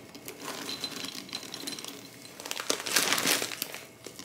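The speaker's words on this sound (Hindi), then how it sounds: "आप बादामों की आवाज़ सुनें" Almonds are processed in a kitchen, giving a busy, crackly rattle and crunching whir of nuts being ground, rising to a louder, denser stretch near the end.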